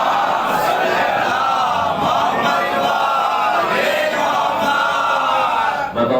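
A congregation at a Muharram majlis loudly chants salawat in unison, a full, continuous crowd voice with swelling repeated phrases throughout.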